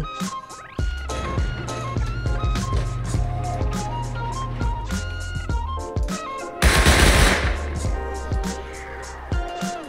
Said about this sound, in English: I don't even know what's shooting at me. I think it's a turret.